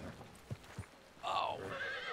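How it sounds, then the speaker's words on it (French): A horse in a western video game gives two soft hoof thuds, then a loud, close neigh that rings on for about a second. "J'ai reçu un coup de sabot de ton cheval aussi, tiens."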